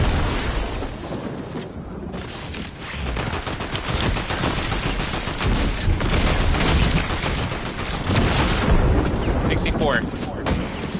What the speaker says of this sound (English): this fucking assault rifle does not do good at all